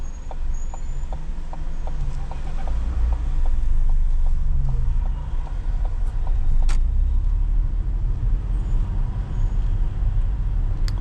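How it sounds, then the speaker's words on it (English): A learner driver's car rolls along a London road, heard from inside as a steady low engine and road rumble with a regular ticking of clicks through the first half; no talking. "she's put the engine back on and gone forward when it was safe"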